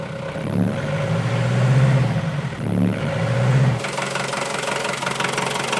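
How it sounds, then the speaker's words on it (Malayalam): A vehicle engine runs close by with a loud, steady rumbling drone that swells twice, then settles into a brighter, rougher idle toward the end. "വണ്ടിയുടെ എൻജിൻ്റെ അടുത്താണ്."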